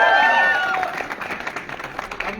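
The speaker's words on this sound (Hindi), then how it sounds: "जोरदार तालियां" An audience at a public gathering breaks into loud applause and crowd noise after a thank-you, a brief voice-like tone sounding at the very start before the clapping carries on.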